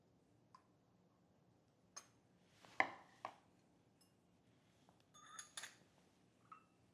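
A knife cuts through a homemade chocolate-swirled marble cake with a few soft, separate scrapes and taps, close and quiet, with short pauses between strokes and no talking.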